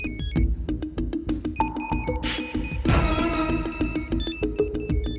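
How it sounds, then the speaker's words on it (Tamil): A mobile phone left on its charger rings with a bright, repeating electronic melody, steady and fairly loud, with no talking over it. "ஆ, செல் அடிக்குது பாரு."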